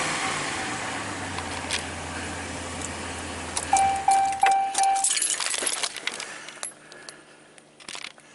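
A 2013 Ram 1500 with a 5.7 Hemi V8 idles with a low, steady hum, and a run of dashboard chimes rings out partway through before the engine note fades, heard up close with no talking.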